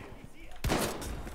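Shotgun blasts from a first-person shooter video game, a sharp loud burst cutting in midway after quieter ambient noise, followed by a sustained roaring tail.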